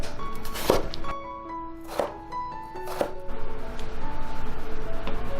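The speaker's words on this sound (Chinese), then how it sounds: "再打斜刀切成厚块" A knife cuts peeled loofah into thick diagonal chunks on a board, three distinct close chopping thuds spaced about a second apart, followed by lighter knocks.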